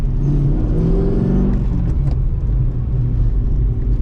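A Mercedes W203 C55 AMG engine with a jumpy, sensitive throttle rumbles loudly and blips upward in a short rev before settling back to a deep, steady drone, heard close with no talking.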